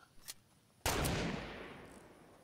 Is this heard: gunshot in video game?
yes